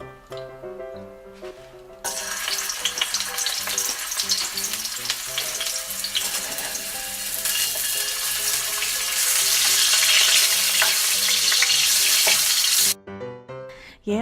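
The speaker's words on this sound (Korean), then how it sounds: "예열한 팬에 기름을 두르시고 마늘과 양파를 먼저 볶아주세요." Garlic and onions fry in oil in a preheated pan at the start of a sautéed kale dish, a dense, steady sizzle that grows louder and brighter midway and then cuts off abruptly near the end, with no talking.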